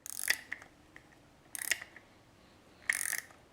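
Spring compressors tighten the coil spring of Eibach lowering springs on a 10th-generation Honda Accord, making three quiet, short bursts of ratcheting clicks separated by pauses.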